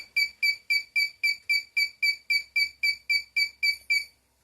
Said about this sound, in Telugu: చూడండి, అది బజర్ మోగుతుంది,